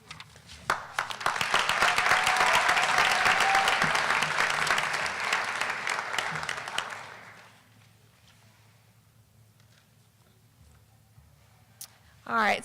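An audience at an LPN pinning ceremony breaks into loud, sustained applause lasting several seconds, then it fades to a quiet room with brief sounds at the end.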